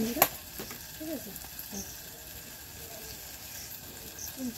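Food fries and is stirred in a pan after a pinch of salt and a little sugar are added: a steady soft sizzle runs throughout, broken by scraping stirs and a sharp clank near the start.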